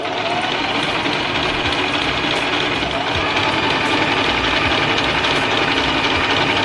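Sewing machine stitching trims and edges of a DIY crop top, a loud, close, continuous mechanical whir with a rapid steady rhythm and no pauses.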